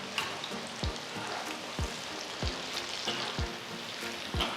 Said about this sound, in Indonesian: ini kita goreng dengan api medium, teman-teman, selama kurang lebih 6 sampai dengan 7 menit